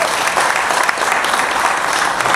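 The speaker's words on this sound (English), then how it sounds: "on l'applaudit s'il vous plaît" An audience applauds a Vietnamese guest at an evening talk, dense steady clapping filling the room for a couple of seconds at full volume.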